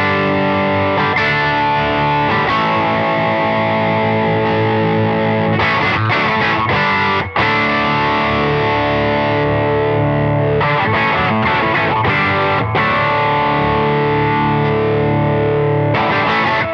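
Overdriven electric guitar chords through a dual overdrive pedal set to a high clean blend, ringing out with a fair amount of clean tone mixed in, strummed steadily and loud.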